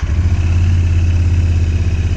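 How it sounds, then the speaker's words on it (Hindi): A motorcycle fitted with a tubeless conversion kit rumbles at a steady idle, its low engine drone loud, close and continuous with no voices. "तो अब बाइक को हम स्टार्ट करते हैं।"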